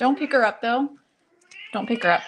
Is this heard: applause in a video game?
no